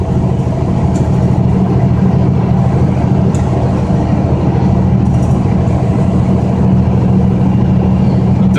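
Car driving on mountain roads with tight curves and steep grades, heard as a steady, loud low engine and road rumble with no break and no talk.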